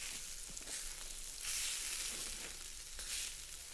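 Beef short ribs sizzle over a wood-fire char grill, a steady close broadband hiss with louder surges as the meat settles on the grate, no voices.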